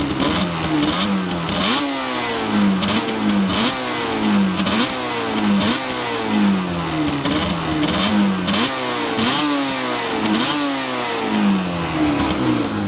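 A 1988 Yamaha TDR250 two-stroke motorcycle revs repeatedly, each blip rising and falling in a regular rhythm, close and loud with no talking.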